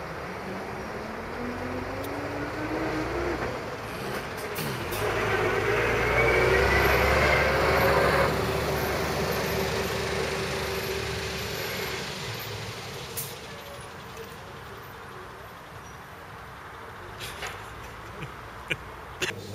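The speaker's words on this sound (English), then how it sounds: "I'm not doing a bit now, when that lorry's gone." A heavy lorry rumbles past at a bike trade show, its low engine drone rising to a peak near the middle and fading away, with a faint air-brake hiss and scattered clicks toward the end.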